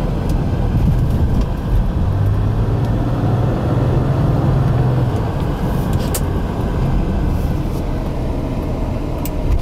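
Cadillac Cimarron sedan with a 2.8L V6 cruising along a road, heard as a broad, rumbling cabin drone of road and engine noise with a faint low hum rising briefly, no talking.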